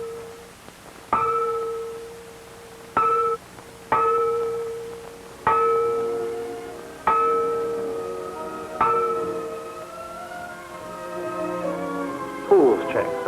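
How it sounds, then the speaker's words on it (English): At a scout camp pool, a buddy bell rings out in a series of separate clear metallic strikes spaced a second or two apart, each ringing on, with someone narrating over them. "At intervals, the buddy bell is sounded"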